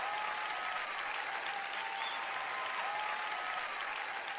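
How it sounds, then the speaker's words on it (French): Steady audience applause fills a church hall during a French-language sermon, an even, sustained patter of many hands clapping at moderate distance without any voices over it. "j'ai eu un petit applaudissement pour l'exercice physique"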